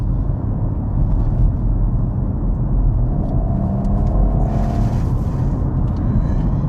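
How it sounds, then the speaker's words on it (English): A 2019 Audi RS5 Sportback's twin-turbo V6 pulls under acceleration, heard from inside as a steady low rumble with a faint rising engine tone partway through. "Some of you may prefer the older, naturally aspirated engine, but this twin turbo V6, the pickup, the response is"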